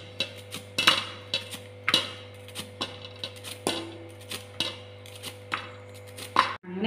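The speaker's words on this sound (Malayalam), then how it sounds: "അങ്ങനെ കയ്പ്പൊക്ക അരിഞ്ഞെടുത്തിട്ടുണ്ട്." A knife slices bitter gourd into thin rounds on a board, giving a run of sharp, irregular near taps over a steady low hum, with no talking.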